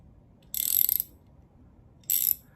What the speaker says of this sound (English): The ratchet solves that problem